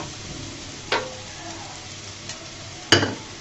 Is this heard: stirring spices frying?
yes